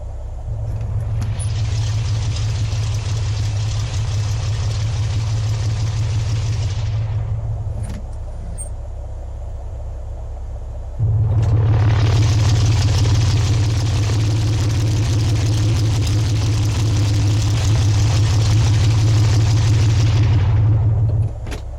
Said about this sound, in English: The engine sounds have been reduced during recording just to save our ears.